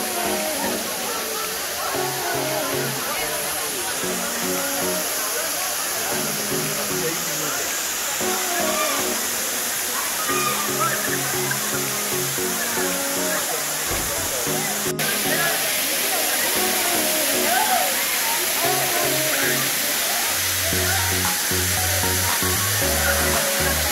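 The Gozalandia waterfalls in San Sebastián, Puerto Rico, roar as a loud, continuous broadband rush of falling water, with voices talking over it throughout.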